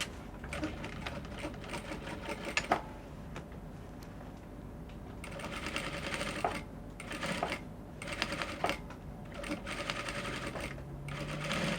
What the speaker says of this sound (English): Then you stitch the crinoline all around the flounce